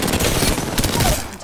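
Rapid automatic gunfire in the Apex Legends video game, a loud burst of closely spaced shots rattling continuously for the full moment without any talk over it.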